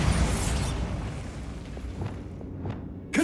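A Bombarda spell blast in Hogwarts Legacy: a heavy booming burst that rumbles and decays over a few seconds, followed by scattered debris clatter and a fresh sharp hit at the end.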